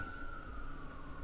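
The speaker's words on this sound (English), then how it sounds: "Oh, there's a siren." A distant emergency vehicle siren wails in Edinburgh in the early morning, a single sustained tone sliding slowly downward over low city rumble, faint and far off with no talking.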